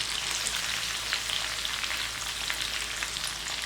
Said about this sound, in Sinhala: ඒකත් යාන්තම් වගේ තෙල් එකට දාලා අර ගන්නවා.